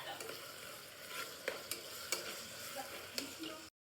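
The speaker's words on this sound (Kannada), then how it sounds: "ಸ್ವಲ್ಪ ಹೈ ಫ್ಲೇಮ್ ಕೊಟ್ಟು ಅದು ನೀಟಾಗಿ ಟೊಮೆಟೊ ಸಾಫ್ಟ್ ಆಗೋವರೆಗೂ ಫ್ರೈ ಮಾಡ್ಕೊಳ್ತೀವಿ" Tomatoes fry in a pan over high flame for a beans palya, a soft continuous sizzle broken by sharp scraping stirs of a spatula, with no talking.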